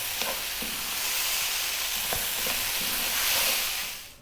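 Spring onions are tossed into stir-fried vegetables in a hot pan, producing a steady, loud sizzle with a few soft stirring knocks and scrapes, and no voices.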